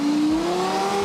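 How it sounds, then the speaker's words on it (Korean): A high, whining electric motor of a Lexus electric supercar climbs steadily in pitch, a smooth revving sound with Yamaha-tuned sound that stays loud and close with no voices. "아니 시동을 걸라고 시동을"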